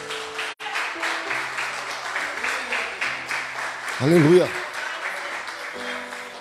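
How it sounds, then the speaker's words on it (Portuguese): A church congregation applauds, its dense clapping carrying on steadily while a voice rings out briefly over the crowd. "Aplauda o Senhor"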